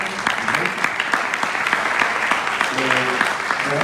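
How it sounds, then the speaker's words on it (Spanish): Congregation applauding at a Passover service, a sustained dense wash of clapping with a few cheers, steady and fairly loud throughout, with some voices mixed in toward the end. "Un aplauso al Eterno."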